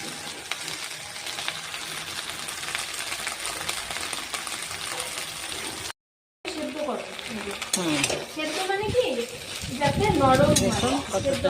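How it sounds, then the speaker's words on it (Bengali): Raw tomatoes sizzle as they hit a hot pan for a Bengali bhindi posto, a steady frying hiss with stirring scrapes, briefly cutting out before a louder, busier sizzle with a voice speaking over it. "দেখুন, এখন আমি টমেটো ছেড়ে দিচ্ছি"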